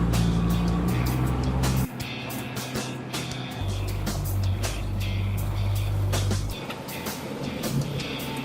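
A Bella 620C motorboat with a 115 hp outboard engine running at speed, a loud steady engine drone with water rush and wind, the pitch shifting partway through.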